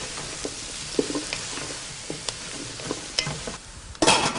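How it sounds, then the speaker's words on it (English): Broccoli with garlic and ginger stirred in a hot pan, scraping utensil strokes over a soft sizzle, with a louder burst of clatter and sizzle near the end. "So we'll just get this stirred up, incorporate that garlic and ginger."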